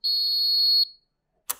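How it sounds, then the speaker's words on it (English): Particle spectrometer for PM10 and PM2.5 sampling gives a single long, loud, steady electronic beep after its plus button is held, ending in a short click. "So after hearing this beep sound,"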